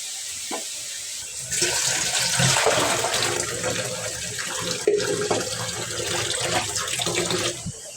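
Cut chicken meat is washed under a running tap, a steady close gush of water splashing and rushing into a sink, with a few clinks and handling noises over the continuous flow.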